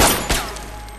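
A gunshot in a DC animated film cracks out loud and close near the start, with a second sharp report about a third of a second in, then a ringing decay.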